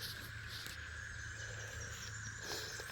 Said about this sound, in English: I don't know if you guys can hear the cicadas in the background.